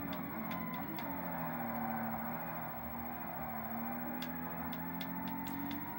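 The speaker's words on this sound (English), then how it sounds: "The other cars' engine noises around you are so loud in Forza" Rival race car engines drone and whine in the Forza Motorsport racing game on Xbox from 2005, with several cars' steady engine tones shifting in pitch nearby and sharp clicks cutting through.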